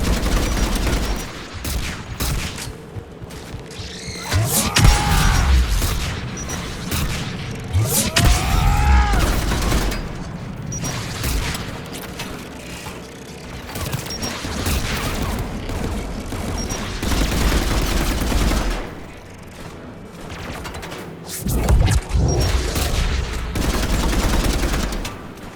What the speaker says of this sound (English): AA guns, dead ahead.